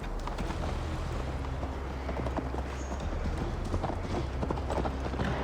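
Horse hooves galloping on a long ride in Assassin's Creed Valhalla, a steady rapid clip-clop rhythm over a low rumbling bed, continuous and close, with no talk.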